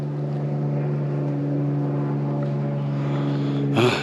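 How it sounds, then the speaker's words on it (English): A propeller airplane drones overhead above a forested camping area in the Red River Gorge, a steady harmonic engine hum held at constant loudness, followed by a brief louder rustle at the end. "Always a plane."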